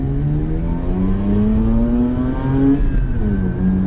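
A 2006 automatic six-port rotary-engine car accelerating hard, its smooth, buzzing engine note climbing steadily in pitch through the gears, loud and close from inside the cabin with no talk.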